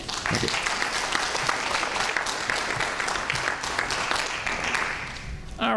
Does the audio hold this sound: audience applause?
yes